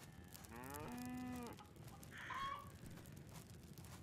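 A cow lows in the farming video game Farmer's Life with one drawn-out moo. A short chicken-like cluck follows over faint ambient game noise, and no one speaks.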